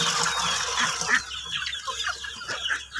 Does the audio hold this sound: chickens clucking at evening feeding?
yes